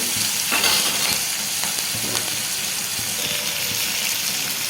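Cucumber pieces and tomatoes fry in hot oil with salt and turmeric in a pan, giving a steady, close sizzle with a few stirring scrapes and no talking.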